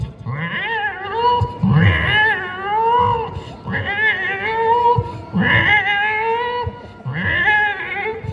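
A human mimic imitates a male cat, voicing four long, mournful, wavering meow-like wails one after another, loud and close with short pauses between them.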